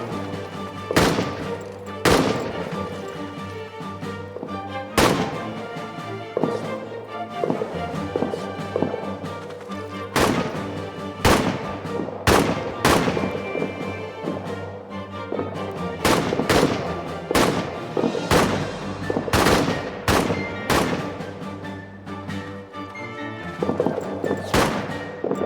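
Gunfire crackles through a World War I trench battle in the game All Quiet in the Trenches, with sharp shots recurring irregularly over a steady, dense din of combat noise.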